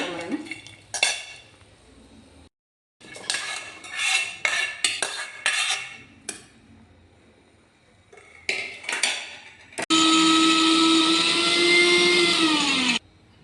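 A mixie grinder in a home kitchen grinds a fried brinjal mixture, a loud steady whir lasting a few seconds near the end, after scattered clatter of spoons and jars.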